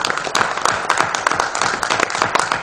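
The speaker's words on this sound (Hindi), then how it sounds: "आप तालियों से इनका स्वागत करें।" An audience at a folk tamasha play applauds to welcome Dilip Bhatt, who played Raja Gopichand, giving dense sustained clapping that stays fairly loud throughout.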